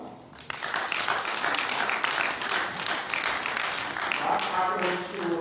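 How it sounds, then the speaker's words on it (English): An audience at a Liberian agriculture ministry grant handover ceremony claps in sustained, dense applause. The clapping is loud and continuous after a brief quiet start. "So give yourself a big hand clap."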